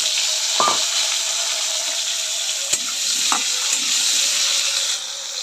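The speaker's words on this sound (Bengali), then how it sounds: "মাছের ঝোলের জন্য আলুটা ভেজে নেব।" Potatoes fry in oil for a fish curry with a continuous close sizzle. A few brief clinks and stirring knocks sound over it, and it quietens slightly near the end.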